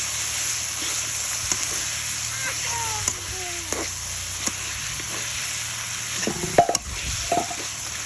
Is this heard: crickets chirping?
no